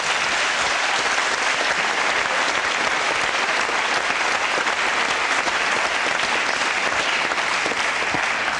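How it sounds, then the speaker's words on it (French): A large studio audience at a French television talk show claps loudly and continuously, a dense, even wash of applause with no break throughout. "Donc je vais vous demander d'applaudir Véronique pour lui donner un peu de courage"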